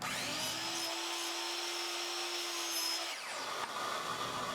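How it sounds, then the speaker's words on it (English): A miter saw cuts wood pieces for a dog kennel, a loud steady motor whine with the blade biting through the stock and then spinning down, all heard alone without talk. "at the miter saw, I could cut each of the pieces to their appropriate lengths"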